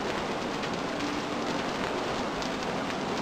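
Steady, even rain falling in the video game Realms of Arkania: Blade of Destiny, a constant dense hiss with no other sounds.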